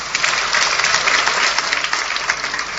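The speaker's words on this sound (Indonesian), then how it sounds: "Anda boleh tepuk tangan di sini." Loud, sustained applause from a church congregation during a sermon, a dense, steady wash of many hands clapping with no break.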